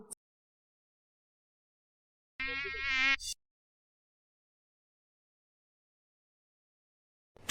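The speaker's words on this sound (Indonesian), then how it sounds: "Nyamuk ini berani ngeganggu aku." A mosquito gives one brief, whiny buzz lasting under a second in otherwise near silence, with a couple of sharp clicks around it.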